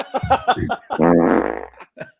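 A fart sound, a single drawn-out buzzy burst following brief talk.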